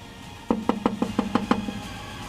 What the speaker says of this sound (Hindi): हम बार बार लगातार खटखटा रहे हैं